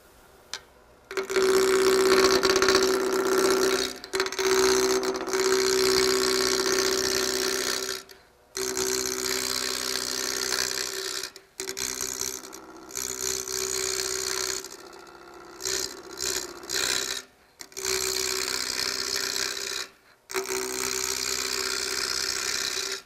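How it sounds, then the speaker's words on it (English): A lathe gouge taking a roughing cut on a spinning wood spindle: a loud, close, continuous tearing whir over the motor's steady hum, broken by short pauses where the tool lifts off, with no voices. "The first cut you're going to see on the spindle is a roughing cut."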